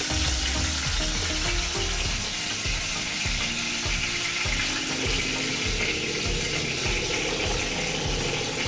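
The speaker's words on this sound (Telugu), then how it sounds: "సో అవి కొంచెం వేగగానే మనం టమాటోస్ కూడా వేసి ఇందులో ఫ్రై చేసేసుకోవాలి." Fenugreek leaves fry in a pan for tomato chutney, giving a steady close sizzle broken by rhythmic scraping and stirring strokes, with no talk.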